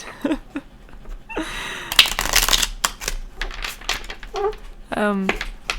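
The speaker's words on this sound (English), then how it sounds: "Yes, let's shuffle the cards." Tarot cards riffle and slap in quick bursts, with crisp papery flutters between softer handling noises and a brief voice.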